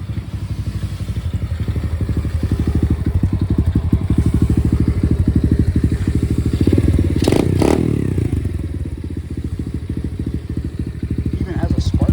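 Orion 110 pit bike engine idling as it warms up before an oil change, a steady close putter with rapid regular firing pulses, a few clattering knocks and a brief rev near the middle.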